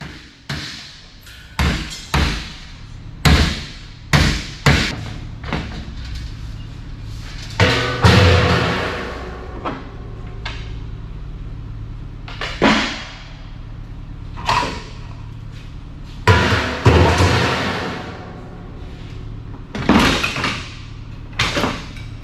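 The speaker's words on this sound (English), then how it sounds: "I have to knock that end piece out of the way, and then I can knock the sockets out." Brass-coloured sockets being knocked out of a scrapped light fixture, which turn out not to be real brass: a series of sharp metallic knocks and thuds, some in quick clusters and a few heavier blows, close and loud, with no talking.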